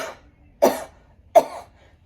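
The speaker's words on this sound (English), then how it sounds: "Hold for 3 seconds and then cough" Two forceful, separate coughs from one person, close and sharp, each a short burst with quiet between them.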